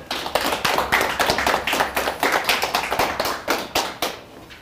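Steady applause from a lecture audience in Korea, many hands clapping in a dense, lively rhythm that carries on for several seconds before tapering off.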